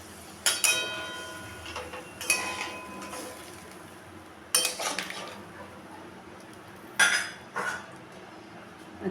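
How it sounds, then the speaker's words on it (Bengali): Metal clanks and clinks of a lid set on a cooking pot of vegetarian potol (pointed gourd) curry with paneer, a few separate sharp knocks spread across the moment with quiet pauses between, close by and without talk. "এখন আমি একটা ঢাকা দিয়ে দেব।"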